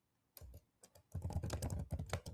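Close, loud typing on a computer keyboard: a pause, then rapid irregular clusters of clacking keystrokes, with no voices.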